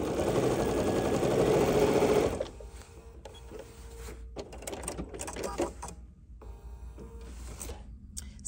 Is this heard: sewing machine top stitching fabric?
yes